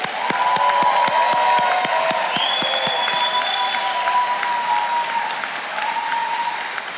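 Audience applause and cheering at a Newport News Shipbuilding Apprentice School graduation for the Class of 2024, a dense, steady wash of clapping from a large crowd with scattered whoops and whistles, loud and sustained throughout.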